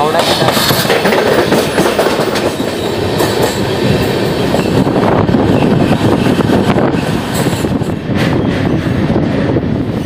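The Gitanjali Express running on rails near Malkapur after Bhusawal Junction, a loud close rumble of carriages with rhythmic wheel clatter, occasional squeals and wind buffeting the microphone.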